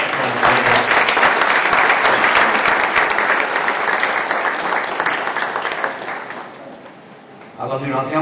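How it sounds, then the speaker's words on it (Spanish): Applause from the audience at a FITUR 2014 tourism fair presentation for Arona: loud, sustained clapping from many hands that slowly fades, and a voice starts speaking over the tail end. "Y un fuerte aplauso para ellos"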